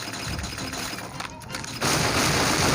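Pirate ship cannons firing in the Pirate Code game, a rapid, dense barrage of loud blasts that swells into a continuous roar near the end.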